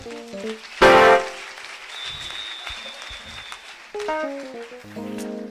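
Applause from a church audience at a Rwandan gospel performance, a brief loud burst that fades under tonal piano and singing.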